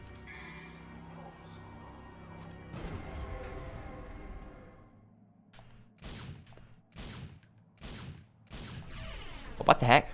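Gunshots in Devil May Cry 3, a series of sharp shots in short evenly spaced bursts, moderately loud against music, with a person talking over the action.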